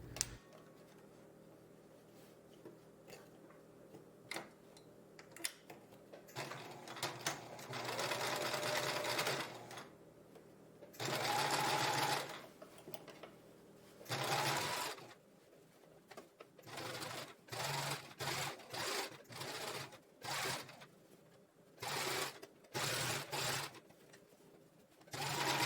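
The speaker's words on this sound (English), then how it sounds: "Now we are going to sew a straight stitch 3/4 of an inch along that edge to create the back middle seam." A sewing machine runs in bursts while sewing a straight stitch along a boxer-shorts seam, a fast mechanical whirring that starts and stops repeatedly, with quiet pauses and soft handling noises in between.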